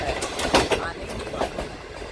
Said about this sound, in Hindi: ट्रेन हो गई है स्लो, 160 की स्पीड से जा रही थी